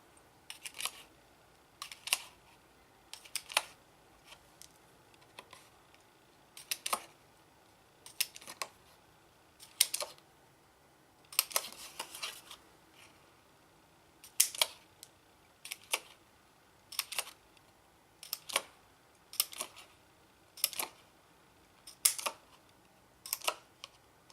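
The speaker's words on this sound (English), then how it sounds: "Now with a 1/8 inch punch, you're just going to go right along and punch all of those out." A 1/8 inch hand hole punch snaps through paper again and again, each sharp click close and distinct, spaced roughly a second or two apart over a quiet background.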